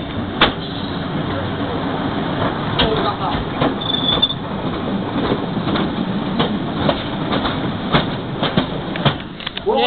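A passenger train on a heritage line to Alton pulls away from a station, a steady rumbling run with rhythmic clicks and clanks of wheels over rail joints, heard from on board with chatter in the carriage.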